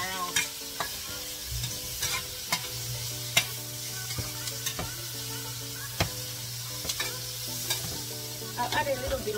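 Food seasoned with black pepper tossed and stirred in a dry pan, a steady close sizzle under repeated scraping and clattering strokes of a utensil against the pan, with no voices.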